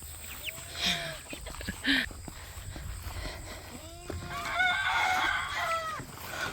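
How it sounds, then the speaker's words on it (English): Chickens clucking and squawking nearby, with scattered calls and a busier burst of clucks toward the end over faint background noise. "This time I have 2 chickens"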